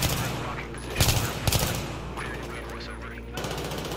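A-10 Warthog diving and firing in the Battlefield 3 campaign: a steady jet roar with a few sharp cannon bursts and gunfire volleys, moderately loud, with someone talking over it.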